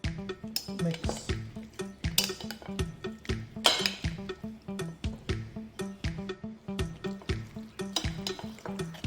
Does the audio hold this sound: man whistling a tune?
no